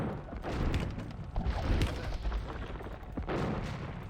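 Bombard cannons firing in a medieval strategy video game battle, a dense barrage of booming shots and thuds overlapping in rapid succession at close range, with no voices.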